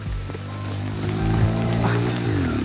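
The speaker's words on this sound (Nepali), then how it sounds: "पानी त झन् अझै धेरै ठुलो पर्न थाल्यो।" Heavy rain pouring while sheltering in a hillside temple in fog, a dense continuous hiss with a low steady rumble underneath, fairly close and unbroken.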